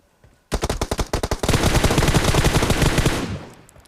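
Rapid, loud gunfire bursts in PUBG Mobile, starting with a string of separate punchy shots and then merging into a dense continuous volley that fades out near the end.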